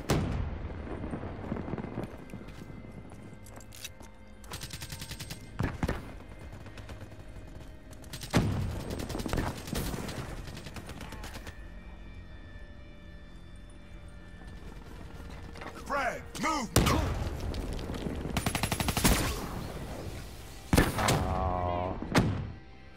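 Grenade launcher fire in Call of Duty: Black Ops 3 gameplay, heavy booming bursts and mechanical clatter recurring irregularly across a busy battle mix, with a voice talking over it at times.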